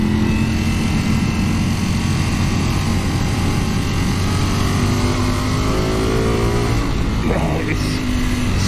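A Ducati Panigale V4S engine pulls hard on the road, a loud sustained roar with rising tones as the bike accelerates, wind rush filling the background and no voices over it.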